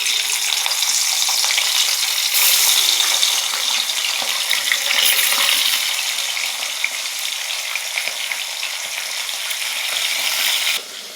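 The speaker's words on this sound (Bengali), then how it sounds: "দেখুন ওদিকে মাছ ভাজা হচ্ছে" Rohu fish pieces sizzle and crackle steadily in hot oil, a dense, loud frying hiss that holds for about eleven seconds with small bubbling pops and no voices.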